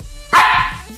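A single loud bark for a small cartoon husky puppy, voiced by a person imitating a dog, bursting in sharply after a quiet start and holding briefly before fading.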